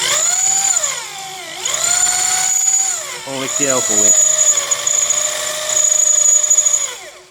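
A power drill bores a hole in a car's front grille, whining loudly, its pitch rising and falling as it revs up and slows, with a brief voice breaking in midway.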